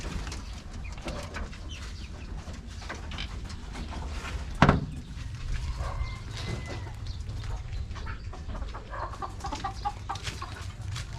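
Rhode Island Red chickens on a small farm cluck and coo softly amid a noisy outdoor background, with one sharp knock partway through and scattered bird calls throughout.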